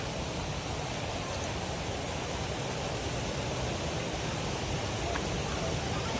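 Waterfall at Gubat Falls in Busuanga, Coron, Palawan, a steady broadband rush of falling water heard close and loud without pause, no voices over it.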